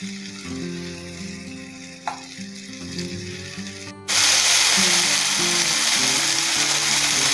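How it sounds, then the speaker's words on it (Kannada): Tomatoes and green chillies frying in a spoonful of oil for tomato chutney, a steady close sizzle that swells suddenly into a loud, dense hiss partway through. "ನಾ ಈ ಟೊಮೆಟೊ ಜೊತೆನ ಈ ಹಸಿಮೆಣಸಿನ್ಕಾಯಿ ಭೀ ಹುರ್ಕೋತೀನಿ"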